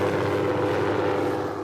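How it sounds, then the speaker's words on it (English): A helicopter flies by during a wild horse roundup, giving a steady, loud, close engine and rotor drone that runs unbroken through the whole moment. "So this is the point where a helicopter flies by."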